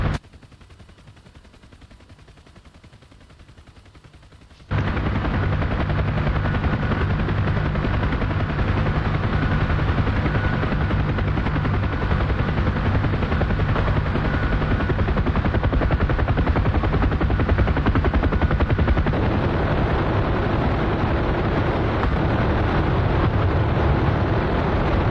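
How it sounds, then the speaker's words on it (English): Helicopter gunship in the DCS combat flight game firing its chain guns, a loud continuous roar of rapid gunfire over rotor noise that bursts in abruptly after a few quiet seconds and keeps hammering steadily throughout. "Let's go with the chain guns."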